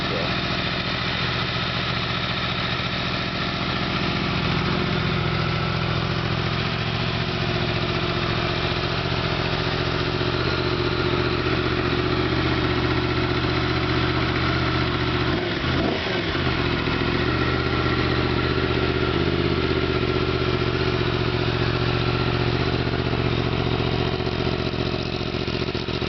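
A Yamaha FZ10/MT10 motorcycle fitted with a Leo Vince exhaust idles with a steady, loud, close rumble that runs the whole way through, with a brief shift in tone about midway.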